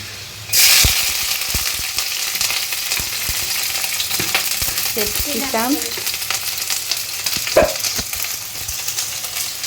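Ingredients for a paneer dish frying in a pan, a sudden loud burst of sizzle as they hit the oil, then steady crackling with occasional spatula clinks and a brief vocal sound midway.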